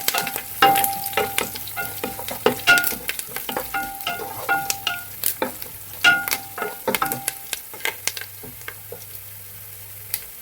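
Two sprigs of curry leaves crackle and sizzle in hot oil for a beef fry, a steady frying hiss broken by frequent sharp pops and spatula scrapes.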